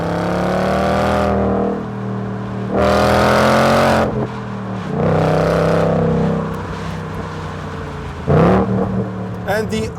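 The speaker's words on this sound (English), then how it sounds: "if you lift off at about 2500 or 3000 RPM, the exhaust makes some really cool crackles" A 2019 Ford Mustang Bullitt with a manual gearbox revs loudly in repeated bursts, its exhaust crackling and popping as the throttle is released after each rev, heard close up with no talking.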